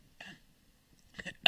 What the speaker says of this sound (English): I shouldn't have coughed in it.